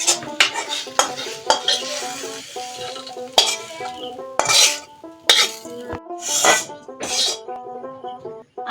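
A pot of cooked shukto, a Bengali vegetable dish, comes off the stove in a village kitchen, with metallic scraping and clanking, a few sizzling bursts and a cough, all loud and close.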